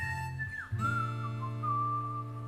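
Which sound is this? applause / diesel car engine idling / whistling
whistling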